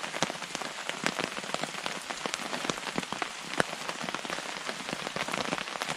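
Rain drums steadily on a hammock tarp while wild camping in bad UK weather, a dense patter of close drops with frequent sharper taps, continuous and fairly loud throughout.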